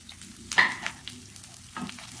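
Small onions sauté in a pan with a soft sizzle, broken by a couple of stirring scrapes that rise briefly before settling back to a quiet fry.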